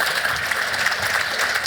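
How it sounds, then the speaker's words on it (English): A crowd applauding, loud and continuous, the clapping blended into a steady wash of sound with no voices standing out. "Round of applause for Ross."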